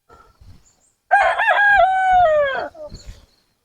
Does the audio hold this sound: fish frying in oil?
no